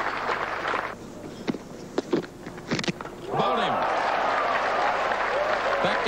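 A small cricket crowd at a 1990 New Zealand versus India Test match in Napier claps a departing batsman. Scattered claps grow into a steady, sustained round of applause under a commentator's voice.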